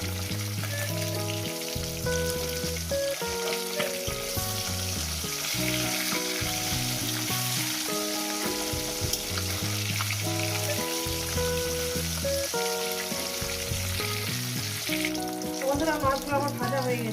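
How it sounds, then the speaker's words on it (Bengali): Katla fish frying in oil in a pan, a continuous sizzle heard under loud tonal background music throughout. "বাকি দুটো মাছ ভেজে নিয়ে দিচ্ছি।"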